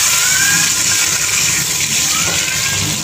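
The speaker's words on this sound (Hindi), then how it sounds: "इसमें पानी डाल दें।" Water pours steadily into a cooking pot with fried cumin for zeera rice, a loud continuous rushing splash at close range with no voices.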